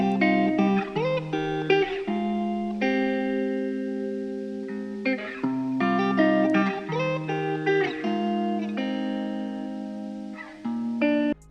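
Layered electric guitars run through distortion, EQ, compression, RC20 and reverb, playing a sustained chordal riff with shifting harmonies and swelling, washed-out tails that pause briefly around the middle before resuming.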